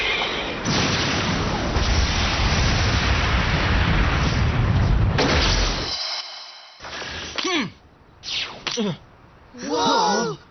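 A Beyblade special-move impact explosion, Lightning Shot Flash, in a Hindi-dubbed Metal Masters anime battle: a long loud roaring blast that cuts off abruptly, then short whooshing bursts and voices.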